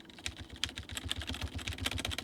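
Steady rapid keystrokes on a quiet computer keyboard, the dot key tapped repeatedly in an even rhythm, close and fairly soft, with no voices.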